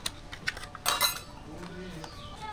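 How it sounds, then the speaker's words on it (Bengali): A spoon clinks against a bowl as sour yogurt is spooned in, a few light metallic taps and one brief scraping clatter, close and fairly quiet, with a faint voice murmuring afterward. "দু চামচ টক দই দিয়ে দিলাম।"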